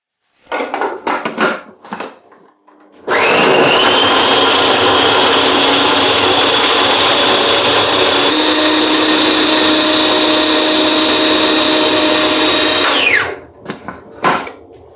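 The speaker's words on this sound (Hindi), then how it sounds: "तो चलिए इनको डालते हैं फूड प्रोसेसर में और इन्हें ग्राइंड करते हैं।" A food processor grinds green chilies and garlic in a loud, steady whir lasting about ten seconds, preceded and followed by short clatters of the lid and bowl.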